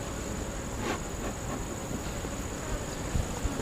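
Honeybees hum steadily around an open beehive on a farm, a continuous soft buzz with a few closer passing flights and no talking.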